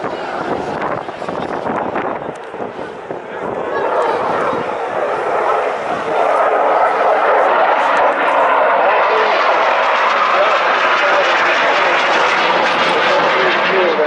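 Eurofighter Typhoon jet performing an air display, its engine roar building from a rough rumble into a loud, sustained broadband blast that holds steady to the end.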